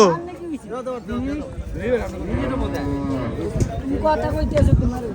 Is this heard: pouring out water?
no